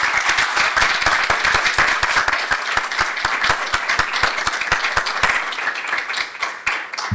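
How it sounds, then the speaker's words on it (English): Audience applause for students' parents at a school district board of education meeting, a dense, steady burst of many hands clapping close by that carries on throughout without speech. "So please stand up so we can give you a round of applause"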